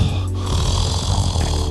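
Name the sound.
snoring sound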